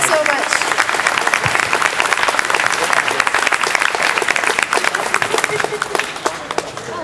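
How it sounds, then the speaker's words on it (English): Audience at a Star Wars actors panel at Dortmund Comic Con 2019 breaks into steady, dense applause that fills the room for the whole stretch, with scattered voices mixed in. "Round of applause."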